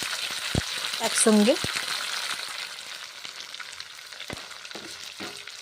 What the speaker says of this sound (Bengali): মোরলা মাছগুলোকে ভেজে নিচ্ছি, দেখছেন তো।